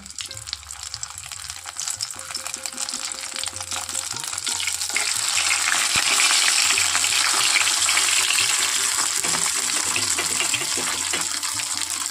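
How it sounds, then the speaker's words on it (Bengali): Chicken pieces dropped one at a time into hot oil in a kadai. A steady, close, loud sizzle swells about a third of the way in and stays strong to the end, with no talking. "এখানে আমার এখন তেলটা গরম হয়ে গেছে আর এখন আমি একে একে সবগুলো এই চিকেনগুলো ছেড়ে দেবো"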